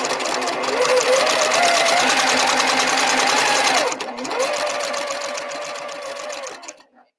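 A home sewing machine stitches in a steady, continuous run during quilt piecing. It pauses briefly near the middle, resumes, then winds down to silence at the end.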